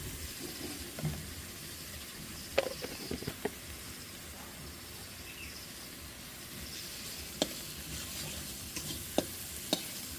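Fish roe kofta mixture being stirred and sautéed in a pan, a faint continuous sizzle with a few sharp scrapes and clicks of the spoon against the pan at scattered moments.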